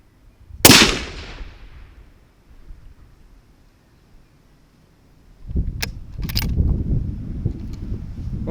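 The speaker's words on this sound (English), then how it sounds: "3 shots, brand new rifle, never fired before, 75 yards." A brand-new Remington 700 Mountain SS rifle fires at 75 yards, one loud sharp report with a decaying tail standing out, followed later by rustling and faint clicks of handling noise outdoors.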